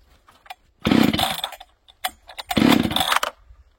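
A chainsaw in cold winter conditions gives two loud, close bursts of engine sound about a second long each, separated by a pause with faint clicks and rattles.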